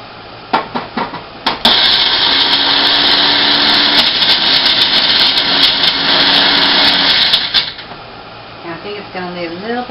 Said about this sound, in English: And then we're going to zip it around in the blender again.